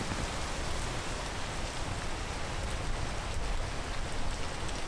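Steady rain falling in a Minecraft world, a continuous even hiss of dense droplets that holds at a constant level throughout with no voices.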